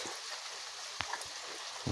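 Steady rain falls outside, a continuous soft hiss with an occasional isolated drip or tap.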